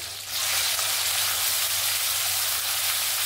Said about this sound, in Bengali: আদাটাকে 1-2 মিনিট ধরে সুন্দর করে ভেজে নিয়েছি।